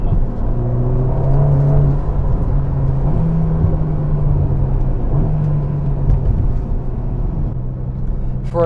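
A front-engined Ferrari Roma sports car drives with a steady, loud engine drone whose pitch climbs and shifts a few times as it pulls through the gears, with continuous road rumble underneath.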